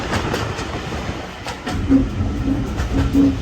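A heritage railway train hauled by a Class 31 locomotive rolls across the Yorkshire Moors, heard from the rear carriage: a rumbling run with rhythmic clickety-clack of wheels over rail joints and brief squealing tones, loud and near.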